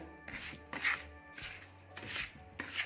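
A thick rava ladoo mixture of semolina and sugar syrup is worked by hand or spoon in a bowl, giving close, rhythmic rubbing and squelching strokes in repeated bursts with no talk.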